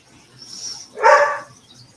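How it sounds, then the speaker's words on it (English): A single dog bark at home, fairly close, short and sharp, preceded by a faint hiss. "my dog's going crazy"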